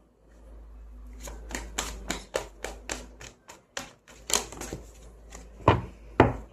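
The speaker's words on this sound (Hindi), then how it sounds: "इतने सारे कार्ड्स फ्लिप हुए हैं।" Tarot cards flipped and shuffled by hand, a rapid series of crisp slapping snaps and flicks close by, bunched in a quick rhythm over about six seconds with a low hum underneath and no talking.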